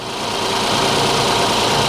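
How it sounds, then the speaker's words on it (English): Ford Ecosport engine running steadily in reverse gear, a salvage car that runs but won't drive: a loud, close, continuous mid-pitched drone with slight vibration, no voices. "the engine's running and it's in reverse."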